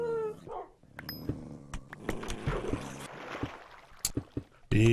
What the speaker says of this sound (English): They're sending dogs through the holes!